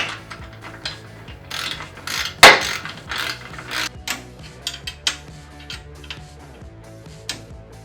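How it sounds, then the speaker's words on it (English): A ratchet tightening the mounting bolts of a Vance & Hines PCX ShortShot Staggered motorcycle exhaust, loud close clicking in short repeated bursts with metallic clanks, no voices. "So now that we've tightened the front, we're going to tighten these guys back here."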